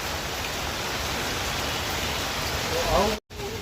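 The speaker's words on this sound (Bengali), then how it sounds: "ভিডিও করতে এসে এত জোরে বৃষ্টি এসছে" Heavy rain pours down at the hilltop Barkat Ali mosque and dargah on Wadala Road in Mumbai, a dense, loud, steady hiss filling the whole scene, briefly cutting out near the end.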